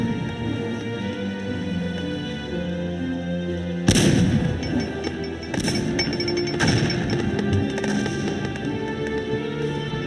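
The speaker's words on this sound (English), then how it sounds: "We are under artillery fire!" Artillery fire rumbles over a battlefield in the strategy game Cossacks 2, with a sudden loud burst followed by repeated crackling, booming impacts against a steady background drone of battle noise.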